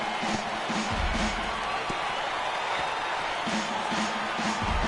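Stadium crowd in a baseball video game, Yankees at Astros, a big crowd of tens of thousands roaring steadily under a play-by-play announcer's voice, swelling in cheers throughout.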